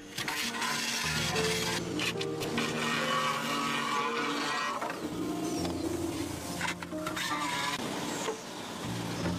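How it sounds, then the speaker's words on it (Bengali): An industrial machine cuts the inner and outer nodes out of bamboo, a loud continuous whirring grind with shifting tones and scraping bursts, with no voices. "কর্মীরা বাঁশগুলো এমন একটি মেশিনে ঢোকান যা বাঁশের ভেতরের ও বাহিরের গাঁট সহজেই কেটে ফেলে"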